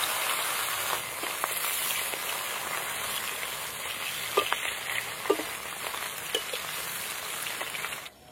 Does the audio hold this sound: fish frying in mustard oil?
yes